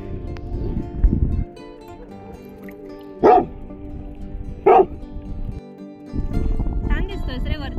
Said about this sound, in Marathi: इकडे कुत्रे आहेत.